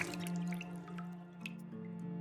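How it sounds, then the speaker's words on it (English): A water bottle fills in the game Project Zomboid, with quiet dripping and trickling over a steady low tonal hum, soft and near, with no one speaking. "Let's fill up our water bottle."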